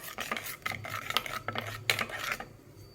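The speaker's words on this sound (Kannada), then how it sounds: "ಈಗ ಮಿಕ್ಸ್ ಮಾಡ್ಕೊಳ್ತೀನಿ" Spoon stirring turmeric and salt in a bowl for a green chilli fry, giving repeated soft scraping and rasping strokes in an irregular rhythm, close and fairly quiet, with no talking.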